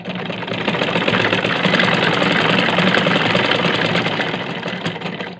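An electric sewing machine runs steadily through double-folded curtain fabric, a continuous rapid mechanical whirr with fast stitching clatter lasting throughout, loud and close with no talk.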